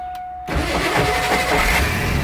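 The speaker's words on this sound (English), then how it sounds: "Did you hear that click, click, click? It's hitting those broken teeth." A Ford Bronco's starter engages after a short quiet moment and grinds against broken flywheel teeth, giving a sustained, rough, close-up mechanical rattle.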